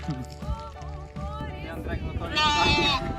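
Sheep bleat repeatedly while being loaded into a car, with the calls growing louder near the end, mixed with people talking nearby outdoors.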